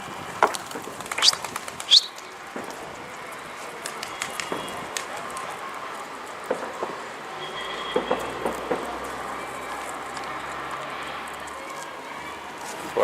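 Pigeons fly around a loft in a scatter of short bird sounds and flutters, louder early on and then fainter over a low, steady rumble that continues throughout.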